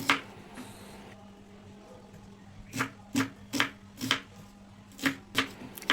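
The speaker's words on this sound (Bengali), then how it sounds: "পেঁয়াজগুলোকে দেখুন এইভাবে ছোট ছোট করে কেটে নিচ্ছি" A knife chops about 200 grams of onions into small pieces on a board, with a run of about eight crisp, evenly spaced close strokes after a quieter start.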